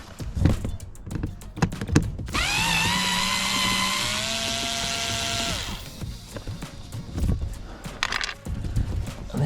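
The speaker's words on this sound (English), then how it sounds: "I like to use a little handheld drill. It's just low powered" Low-powered handheld drill removing fixings under a Range Rover L322, a steady high whirring run of about three seconds that slows slightly in pitch, preceded and followed by clicks and handling noises.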